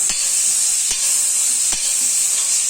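Chopped tomato drops into hot spices frying for a pepper squid dish, giving a steady loud sizzle with a few sharp stirring scrapes spaced through it.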